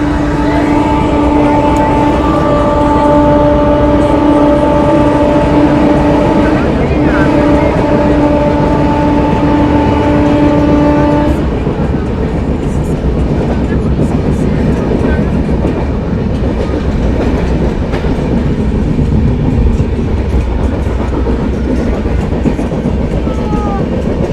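Inside a crowded general coach of an Indian Railways train, the Shiv Ganga Express, a loud continuous rumble and clatter of wheels on rails fills the whole stretch, with a steady tonal hum in the first half.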